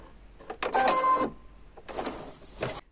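A sewing machine stitches reinforcement seams on a tote bag strap in two short bursts of fast mechanical whirring separated by a brief pause, close and fairly quiet with no talking.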